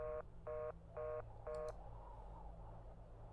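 A telephone keypad sends four evenly spaced dialing tones, each a short steady beep, followed by a brief higher chirp, over a low constant hum.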